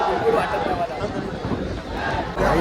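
Large festival crowd at a Dahi Handi celebration, with a dense, continuous hubbub of many voices and shouts filling the space, steady and loud throughout with no single voice standing out.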